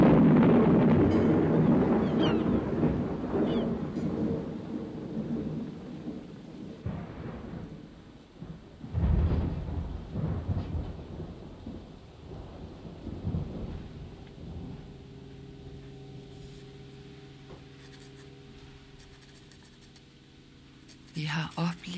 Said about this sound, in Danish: før stormen har lagt sig.